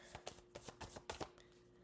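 A deck of cards being shuffled by hand, a quiet, close series of quick riffling bursts with soft flutters between them.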